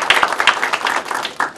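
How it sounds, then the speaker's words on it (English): A brief burst of applause from an audience at a Prince George's County public event, welcoming a council member. It is moderately loud and dense for about a second and a half. "We can give him a round of applause"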